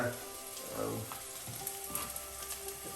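Chopped coconut sautéing in a pan, a soft continuous sizzle with occasional stirring scrapes and small pops, fairly faint and close, with no talking over it.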